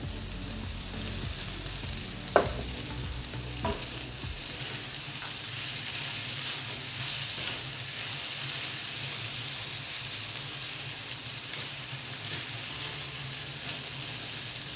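Bitter gourd dropped into a pan of frying carrot and mango for pickle, a loud steady sizzle with a couple of knocks from stirring at the start, no voices.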